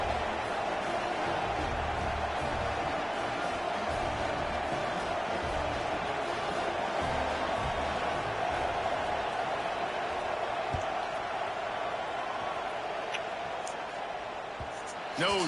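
A football stadium crowd murmurs and rumbles steadily after a touchdown, a dense, continuous wash of many voices heard at a distance with faint scattered shouts and no clear cheer peak.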